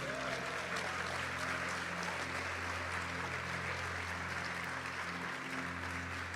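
Steady applause from a church worship congregation fills the whole stretch, a continuous wash of clapping over a low musical hum.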